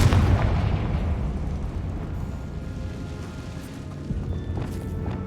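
A Confringo fire spell bursts in Hogwarts Legacy with a loud, deep explosion at the start, followed by a long rumbling decay and scattered crackles.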